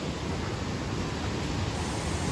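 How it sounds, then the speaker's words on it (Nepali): Steady broadband rush of the Maching river flowing, a loud continuous wash of water filling the whole clip with no voices. "आइपुग्यो माछिङ खोलामा"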